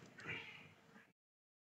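A cat meows once, close and clear, in a quiet indoor room, its rising cry lasting about a second before the sound cuts off.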